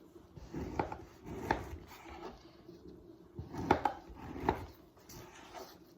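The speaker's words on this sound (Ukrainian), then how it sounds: "І тепер нарізаємо їх або на брусочки, або на кубики." Several knife strokes crunch through stale bread on a board, cutting it into cubes, irregular chops clustered in two bursts, close and moderately loud.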